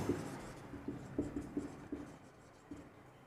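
Chalk or marker strokes on a classroom board during a physics lecture, a run of short scratchy taps and scrapes in irregular rhythm, fairly close and quiet, with no one talking over them.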